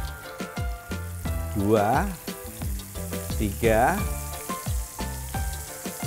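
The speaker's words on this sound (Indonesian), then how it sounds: "kita tumis dulu bumbu aromatiknya atau empon-emponnya ya" Aromatic spices and white base seasoning sauté in a pan for a sweet soy tofu, tempeh and egg dish, a steady sizzle running beneath a person talking throughout.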